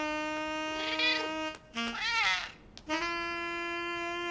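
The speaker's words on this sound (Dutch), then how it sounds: "jij malle kat." A cartoon cat gives drawn-out, tonal meows with a wavering middle call, separated by short pauses, clear and close with no talking over it.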